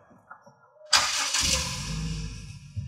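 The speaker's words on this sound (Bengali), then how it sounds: "তো অ্যাট ফার্স্ট আমি গাড়িটি স্টার্ট করব।" A 2020 Toyota HiAce Super GL van with push-button start fires up after a brief quiet moment, a loud cranking burst settling into a steady, smooth low idle close by, with no talking.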